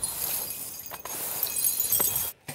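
Glass shatters and breaks into shards during a BMW M135i versus Golf R comparison, a bright crash followed by scattered tinkling and clinking of pieces, with a brief silent gap near the end.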